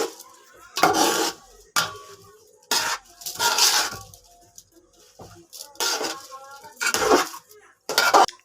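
Rice being fried and stirred with spices in a pan for biryani: repeated bursts of metal spoon scraping and clattering against the pan, separated by short pauses, close and fairly loud.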